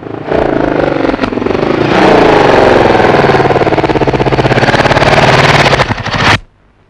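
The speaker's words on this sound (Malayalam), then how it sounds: "ഒരു മോട്ടോർ സൈക്കിളിന്റെ ശബ്ദം" A motorcycle engine in a Malayalam film scene runs loud and close with a fast, rattling pulse, holding steady for about six seconds before cutting off abruptly.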